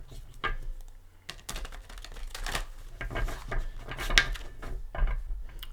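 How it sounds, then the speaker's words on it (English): Tarot deck shuffled by hand: soft papery riffles and card slaps in irregular bursts, close and fairly quiet. "I like to give it a few shuffles with you here"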